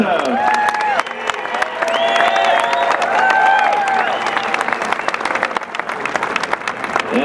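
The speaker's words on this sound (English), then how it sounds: "Please give a big round of applause for Steve Paranto." Audience applause at a Pickleball Hall of Fame induction ceremony for Steve Paranto, a dense, sustained clapping from a crowd with some cheering and raised voices mixed in, loud and continuous throughout.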